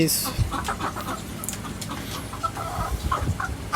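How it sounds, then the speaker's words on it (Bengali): Mixed farm, native and Sonali chickens kept on a hot rooftop cluck and chatter in short irregular bursts, with a passing car and other background noise around them. "আমি কিছু ফার্মি মুরগি দেশি মুরগি ও সোনালি মুরগি মিক্স একসাথে পালন করি"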